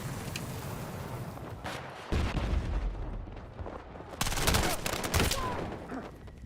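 Gunfire in the shooter game Battlefield 6, bursts of automatic fire that start up and then grow louder and denser, mixed with explosive cracks against a background rumble.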